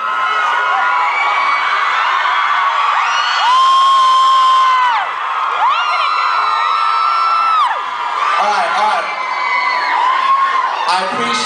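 A packed audience at a live show in an opera house in Toronto screams and cheers without a break, with shrill sustained shrieks and whoops from many voices rising and falling over a loud, steady crowd roar.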